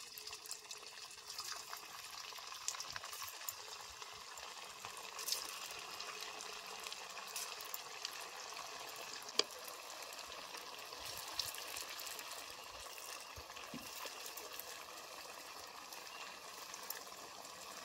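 Semolina pieces frying in very hot oil, a steady soft sizzle and bubbling that holds evenly throughout, fairly quiet, with no talking.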